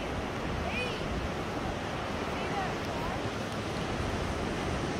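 Ocean surf at the beach in Del Mar, California rolls in as a steady broadband wash with wind noise buffeting the microphone.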